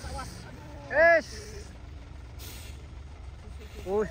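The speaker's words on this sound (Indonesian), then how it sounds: "satu ini trailer menanjak muatan paku bumi. Trailer Fuso Degrit." A loaded Fuso trailer truck carrying piles labours uphill. Its engine drones low and steady, and two sharp hissing air-brake blasts burst out near and loud, one early and one at the end.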